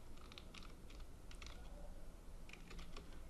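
Keys tapped on a computer keyboard while text is entered into an Excel search form, coming in short irregular bursts of clicks over a steady low background hum.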